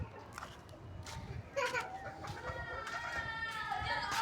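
Aseel chickens cluck and an Aseel rooster calls amid busy farmyard noise, with children's voices and chatter mixed in throughout.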